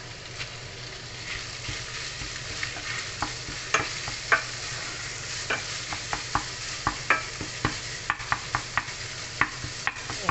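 Minced beef and green beans fry in a pan, a soft sizzle running underneath. A spoon stirs them with irregular scraping clinks that grow more frequent toward the end.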